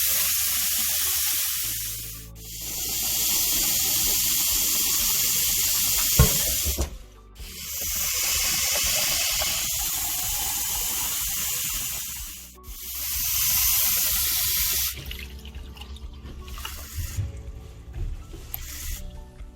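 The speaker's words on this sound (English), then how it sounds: "So while I stand there and fill my jugs of water" Water runs steadily from a tap into water jugs, a continuous hissing pour with brief pauses between fills, followed by softer clinks and handling noises.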